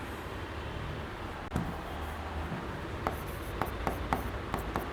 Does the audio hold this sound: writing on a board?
yes